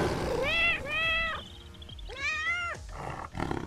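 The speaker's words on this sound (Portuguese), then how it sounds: "É um gatinho." A cat meows in the fantasy RPG Fading Skies, with two drawn-out, wavering meows followed by a longer, rising-and-falling cry, loud and close with faint game ambience between.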